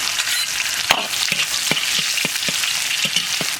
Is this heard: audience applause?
no